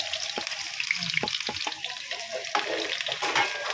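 Garlic and ginger frying in hot oil, a steady close crackle with scattered sharp pops and occasional stirring clinks, no talk over it.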